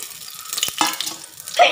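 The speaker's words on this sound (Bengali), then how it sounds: "তো এখন হলো আমি এগুলো তেলের ভিতরে, তেলটা গরম হয়ে গেছে" Chopped onion and green chilli with spices hitting hot oil in a pan, giving a brief burst of crackling sizzle with a couple of sharp stirring clacks, close and fairly loud.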